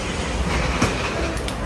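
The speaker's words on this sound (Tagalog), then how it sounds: "Punta kami dito sa subway. Sasakay kami ng train, bullet train." A train rumbles through a subway station in Japan with a loud, continuous roar. Faint voices murmur in the background.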